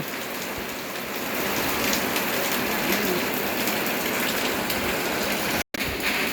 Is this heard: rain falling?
yes